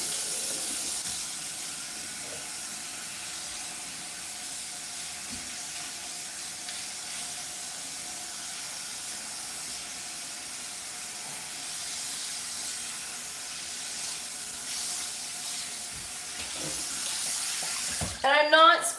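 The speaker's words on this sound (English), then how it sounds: "So, I'm literally going to stick my head under a faucet." Water from a bathroom faucet running over hair as a head is held under the tap, a steady close hiss and splash continuing throughout, with brief louder splashing near the end.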